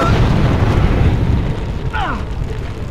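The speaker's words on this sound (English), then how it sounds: "That fireball has lit the grease on fire." A fireball ignites spilled grease in Dragon Age: Origins, a loud close roaring eruption of flame that rumbles on steadily, with a brief fluttering effect sound partway through.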